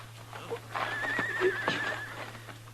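A horse whinnies in a radio drama, a rising, wavering neigh with a few soft hoof clops, heard close and clear over a low steady hum, with no talking.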